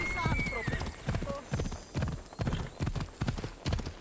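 A horse gallops in Assassin's Creed Odyssey, its steady clip-clop hoofbeats repeating in a quick regular rhythm, loud and close, with occasional whinny-like tones and someone speaking over it.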